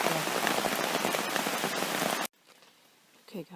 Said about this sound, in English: it's 1:47 in the morning, still raining